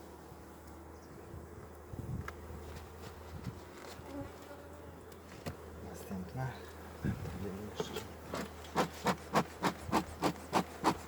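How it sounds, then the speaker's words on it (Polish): Honeybees swarm all over the frames of a spring hive opened for inspection, their steady buzzing humming close throughout as a person talks, and a run of rhythmic taps or knocks builds near the end. "no jak widać wszędzie pszczoły sporo jest"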